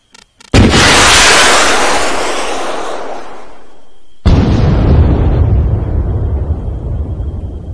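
An ACE3 MPRL compact launcher fires in a video game: a loud blast after a couple of faint clicks, a long fading roar, then a second sharp boom that trails off.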